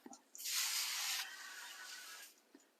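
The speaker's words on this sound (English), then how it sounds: "Grab your cooking spray and spray the top of them" Cooking spray hisses from a can over pork fillets in one close, steady burst that tapers off, with a faint tap before and after.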